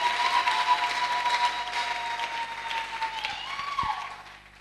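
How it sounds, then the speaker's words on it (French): A church congregation applauds and cheers in a sustained wash of clapping and crowd noise that holds steady before thinning out at the end. "est-ce que tu peux acclamer encore pour la gloire du Seigneur?"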